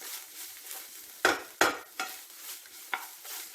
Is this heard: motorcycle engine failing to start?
no